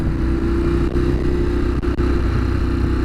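Steady, loud engine drone and wind rush from a Ducati Monster 821 motorcycle being ridden, a continuous mid-pitched hum with brief dips, no talking.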